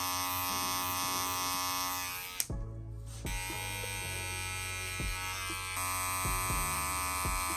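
Andis Master hair clippers buzz steadily close by during a fade haircut, with a short drop near the middle as the blade is adjusted, then the hum resumes alongside faint clicks.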